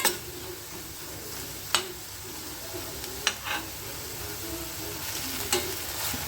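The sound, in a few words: onions and tomatoes frying in a pan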